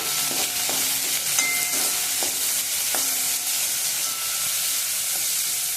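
Two large onions fry and get stirred in a pan, a constant close hiss with soft scraping strokes and a few brief tonal squeaks repeating throughout, no voices.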